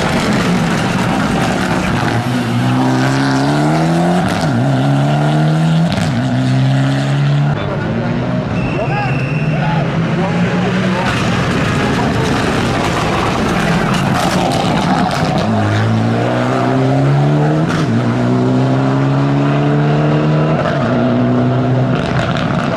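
A loud Mitsubishi Lancer Evo X rally car engine revs and rises in pitch through repeated gear changes as cars pass close by at Rajd Śląska 2023, with a commentator talking over it throughout.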